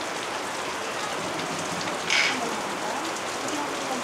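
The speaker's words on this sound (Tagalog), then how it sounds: "Ang lakas ng ulan." A steady downpour hisses loudly and evenly on a nearby surface, with one brief high squeak partway through.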